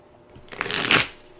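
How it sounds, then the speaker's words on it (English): Tarot cards shuffled by hand in one quick riffle, a soft rising flutter of card edges that peaks and fades within about a second, close and fairly loud with no talk. "Let's do a little shuffle."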